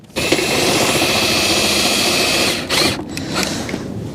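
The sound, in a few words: drill lowering caravan legs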